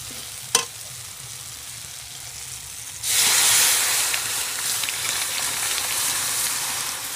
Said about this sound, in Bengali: তো মশলাটা কষিয়ে নিচ্ছি